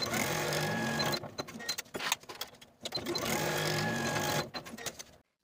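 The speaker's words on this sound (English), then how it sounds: "Sew both seams with a 1/2 inch seam allowance and press the seams open." Domestic sewing machine stitching two fabric seams at a 1/2 inch allowance, a steady close whirring run in two bursts separated by a brief pause and a few handling clicks.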